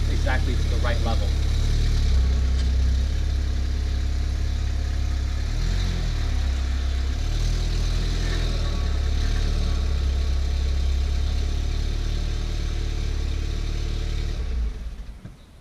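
A Volkswagen Golf R's engine runs steadily at low revs as the car eases onto ramps for a Haldex AWD service, a continuous deep hum with slight rises, then cutting off near the end; a person talks over it.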